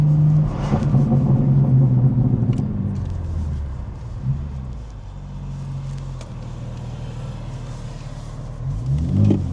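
A stock BMW M4 G82 on a standard, unmodified map, its engine and exhaust revving loud and close, with a deep droning rumble that surges, dips through the middle and climbs again near the end.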